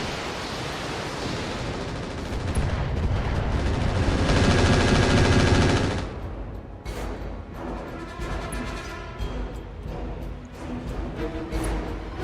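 Sustained heavy weapon fire from mechs in the Battletech video game, a dense roaring barrage that peaks midway, then breaks into scattered bursts and impacts.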